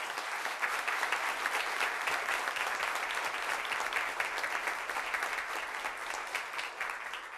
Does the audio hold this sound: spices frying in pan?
no